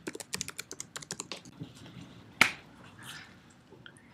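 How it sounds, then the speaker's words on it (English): Fingers tapping a computer keyboard to enter a password, a quick run of close, crisp keystrokes that slows, then one sharper key press and a short rustle before quiet. "so I'll type in my password"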